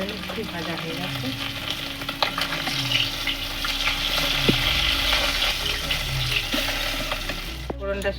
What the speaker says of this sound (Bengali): এবার ভেজে নিচ্ছি।